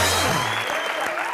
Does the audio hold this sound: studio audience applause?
yes